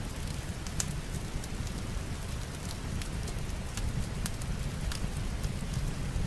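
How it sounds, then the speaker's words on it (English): Soft rain patters alongside a crackling fire in the cozy ambience of the Spirit City LoFi Sessions video game, a faint steady hiss dotted with small irregular pops and snaps. "you got the rain and the fire"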